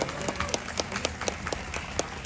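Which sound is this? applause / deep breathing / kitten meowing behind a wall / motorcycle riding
applause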